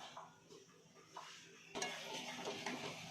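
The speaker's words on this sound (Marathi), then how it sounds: "आता हे बेसन पीठ मिक्स करून घ्यायचं" A spoon stirs besan (gram flour) into pumpkin (bhopla) dhapate batter in a bowl: soft, uneven scraping and light clinks, fairly quiet at first, then a busier, louder stretch of stirring.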